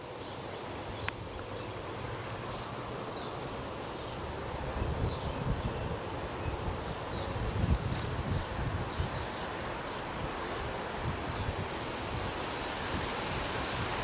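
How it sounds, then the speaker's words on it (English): Wind rushes steadily through a garden as a broad, constant outdoor hiss, swelling slightly midway, with faint rustling and no talking. "here comes the wind"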